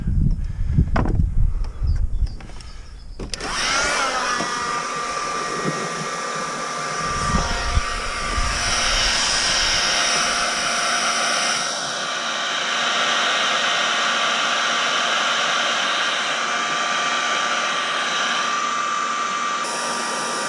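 A heat blower roars steadily, drying wet wooden brightwork on a sailboat: a loud, continuous broadband whoosh that kicks in after a few seconds of handling noise and holds unbroken to the end.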